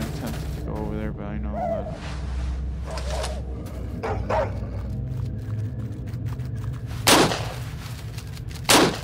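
A dog in the video game Stalker Online barks in a few short, scattered bursts mixed with gunfire and other game noise, fairly close and of moderate loudness.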